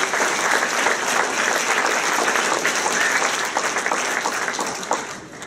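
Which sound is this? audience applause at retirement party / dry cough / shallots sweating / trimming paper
audience applause at retirement party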